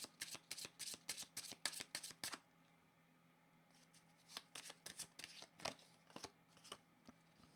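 Tarot cards being shuffled at close range, quiet and crisp: a run of rapid riffling flicks, a brief pause, then another steady series of card slaps and shuffles.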